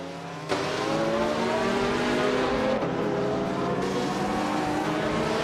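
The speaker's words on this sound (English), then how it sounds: "Frogsworth is driving a 1986 BMW M3, a classic that's known for agility" Race cars roar in a video game race, including a 1986 BMW M3, as a steady, loud, dense engine drone with layered tones shifting slightly in pitch, close and continuous.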